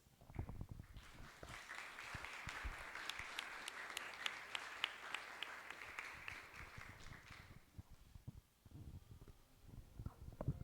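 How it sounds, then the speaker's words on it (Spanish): Sustained applause from an audience at an arts-week curatorial talk, a dense wash of clapping that swells for several seconds and then fades out. "Y si le brindamos el aplauso más grande nuevamente para él"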